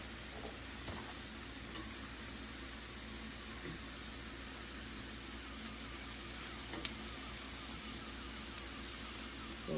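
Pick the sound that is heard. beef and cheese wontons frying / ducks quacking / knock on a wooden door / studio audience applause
beef and cheese wontons frying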